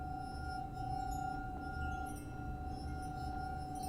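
A faint, sustained glassy ringing tone like a clinking bell persists throughout a quiet eerie scene in the video game The Suicide of Rachel Foster, low and steady over a soft ambient rumble.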